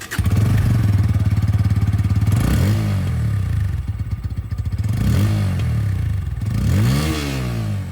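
Bajaj Pulsar N150 motorcycle with an underbelly exhaust, recorded up close: a loud, steady, throbbing idle broken by several quick throttle blips that rise and fall, with no talking.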